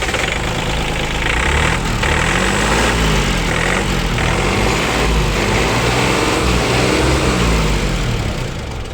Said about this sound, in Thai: ฟังเสียงเครื่องนะครับ ยันมาเนี่ยนิ่มๆเลยครับ เสียงเครื่องยนต์นะครับ